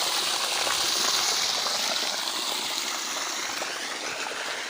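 Borewell water gushes in a steady, continuous flowing rush, moderately close and without talk, holding at a fairly even level throughout.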